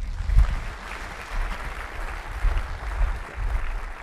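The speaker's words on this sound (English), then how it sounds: "can I get a round of applause for Kevin Jans?" Audience applause at a conference talk, a steady wash of clapping from a crowd that rises and falls over several seconds, with no talking.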